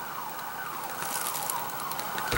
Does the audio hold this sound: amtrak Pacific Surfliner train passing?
no